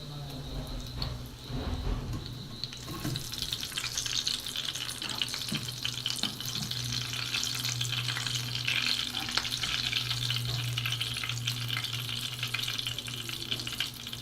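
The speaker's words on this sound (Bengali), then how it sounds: "এইভাবে আমি দুই পাশে উল্টে পাল্টে গোল্ডেন ব্রাউন করে এটা ভেজে নেব" Banana flower cutlets frying in hot oil, a continuous bright sizzle with stirring and turning sounds, starting softer and growing fuller, close and steady with a voice briefly in the background.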